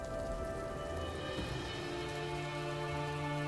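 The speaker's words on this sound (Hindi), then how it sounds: "बरसात अब धीरे धीरे हल्की होने लगी है" Steady rain falls on a surface on a dark rainy night, a dense, continuous hiss of drops with a low sustained tonal hum underneath and no voices.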